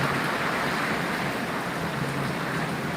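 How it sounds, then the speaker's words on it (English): Heavy rain pours down in a dense, steady roar of broadband hiss with no pauses, loud and close, as if drumming on a roof or vehicle during a storm. "It's raining so hard"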